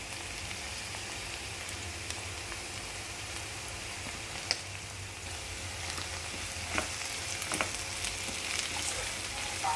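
Chopped cabbage and carrots cook in a pan with a soft, steady sizzle like light rain, broken by a few faint taps and scrapes.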